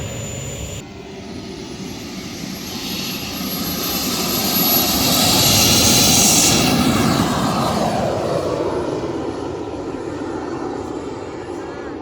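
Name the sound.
large RC model jet and planes flying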